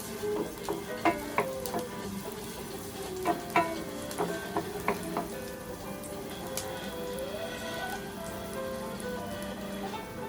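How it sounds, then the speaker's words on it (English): Onion sautéing in a pan for a light pasta dish, a steady soft sizzle running throughout with scattered light clicks and taps of stirring, moderately close and no talking. "saute onion until translucent"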